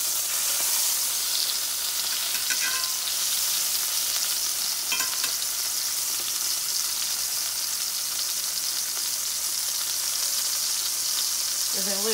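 A steak sizzles steadily in a hot pan after being flipped, a loud, continuous frying hiss throughout with a few faint clinks and light utensil contact near the end.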